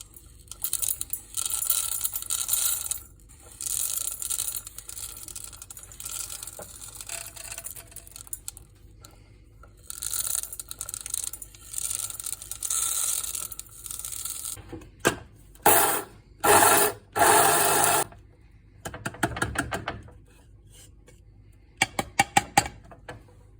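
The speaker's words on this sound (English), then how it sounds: "we're going to pop that in the grinder and get to work on it" A spice grinder whirs in repeated short bursts, breaking up dried lemon, pepper and raw sugar. The pulses start and stop irregularly, with rattling between them and quiet gaps.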